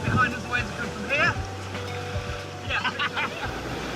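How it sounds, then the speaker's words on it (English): Ocean waves break and wash on a rocky South Cornwall shore, a continuous rushing surge with swells, while people talk nearby. "We wait to look for a wave behind us, the waves come from here."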